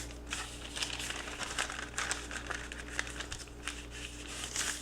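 Paper being folded and creased in steady crinkling bursts while making a cheesecake, close and fairly busy, over a low constant hum, with no talk.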